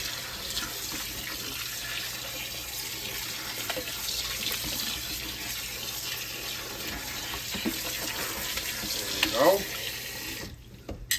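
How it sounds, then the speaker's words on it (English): A kitchen tap runs into a sink as chitterlings are rinsed in a colander, a continuous close splashing rush of water with a brief clatter near the end before it cuts off. "You get them all rinsed off here, right in the sink, in your colander."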